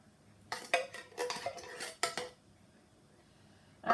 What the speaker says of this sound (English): You probably will need a spoon to just scrape out the ends of the tins.